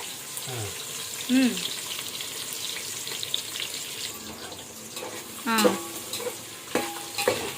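Sliced onions and green chilies fry for coconut pulao in a village kitchen, a hissing sizzle with stirring scrapes and a few louder clanks, while voices and brief laughter come through in the background.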